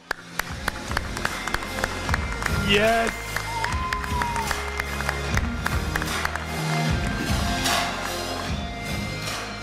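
A large crowd at the EA Play E3 2018 press conference cheers and claps for a competitive RTS player, a loud roar of applause with scattered whoops while a presenter's voice carries over it.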